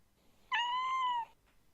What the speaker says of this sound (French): Un chaton.